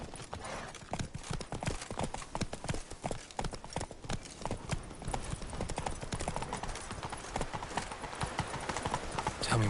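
Steady, brisk clip-clop of the horse Roach's hooves in The Witcher video game, a continuous close rhythmic trot running throughout with no voices over it.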